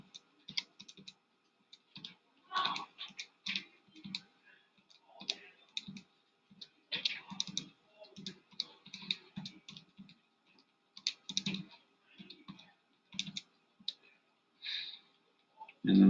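Rapid plastic button clicks from numbers being punched into a calculator during a pre-calculus lesson, coming in quick irregular bursts of taps with short pauses between entries, close and fairly quiet, with some breathing in the background.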